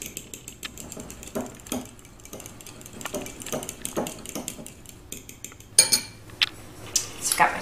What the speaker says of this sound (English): And you're going to mix that together with a fork